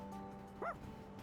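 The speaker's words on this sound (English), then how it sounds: "Dog." Koromaru, the dog in the video game Persona 3 Reload, gives a single short, high yip-like bark that rises and falls over steady background music.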